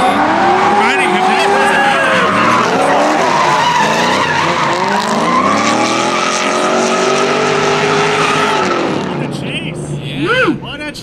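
Drift cars in a competition chase run at a Matsuri callout event, tires squealing and skidding loudly and continuously over roaring engines, with an announcer's voice mixed in throughout.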